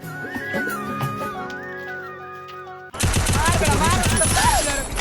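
Gunfire from the video game Free Fire: after about three seconds of whistling, melodic tones, a dense, loud run of rapid automatic shots bursts in and continues to the end, with voices mixed in.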